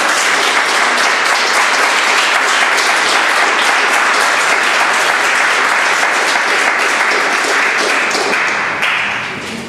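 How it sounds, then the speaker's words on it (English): A lecture audience applauds, dense continuous clapping that holds steady for several seconds before starting to fade at the end. "let's give a round of applause"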